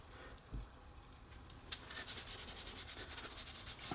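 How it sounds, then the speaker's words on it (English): Duct tape is rubbed down firmly onto the back of a sheet of sandpaper. After a quiet start it becomes a steady, rhythmic, close scratchy rasp of quick back-and-forth strokes. "laying the duct tape on the back of your sandpaper and rubbing it down"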